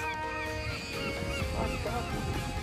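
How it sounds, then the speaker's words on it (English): Noisy calls of a seagull at the Port of Nigg on the Cromarty Firth in the Scottish Highlands, a steady harsh honking cry running throughout over a constant background rumble. "What a noisy bird. Hello, bird. It's a seagull."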